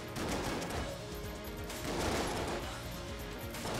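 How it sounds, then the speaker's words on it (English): Rapid burst shotgun fire in Enter the Gungeon, a dense, continuous barrage of overlapping blasts that holds steady at moderate loudness with slight surges, no voices over it. "Burst shotgun! you guys ever heard of the burst shotgun before?"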